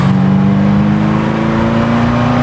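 A Ferrari 348 Spider's V8 engine revs up smoothly and loudly, its tone rising steadily as it climbs, heard close with no talking.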